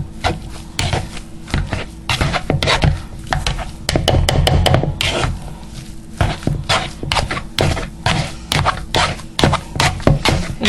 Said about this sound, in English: I am going to use the potato masher though, just to disperse that butter a little more evenly.